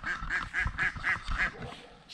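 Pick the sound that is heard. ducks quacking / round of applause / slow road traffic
ducks quacking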